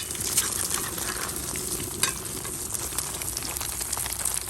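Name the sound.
food frying in a pan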